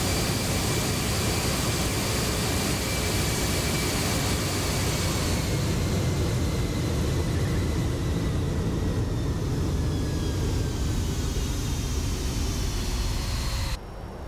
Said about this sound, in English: Another flyby.